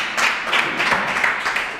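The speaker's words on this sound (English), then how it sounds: "Put a big hand clap for Jesus Christ." Church congregation at a conference service clapping hands together in a steady, dense burst of applause, loud and sustained throughout.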